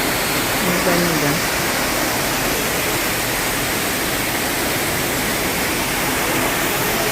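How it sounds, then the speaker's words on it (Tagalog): A waterfall in a large park gives a steady, broad rushing roar, loud and continuous throughout, with a brief bit of voice near the start. "yung waterfalls nila, di ba maganda?"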